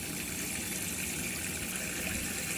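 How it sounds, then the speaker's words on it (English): Hot water runs steadily from the tap in a campervan, a constant close rushing stream with no pauses and no voices. "make sure that the water comes through like it is now"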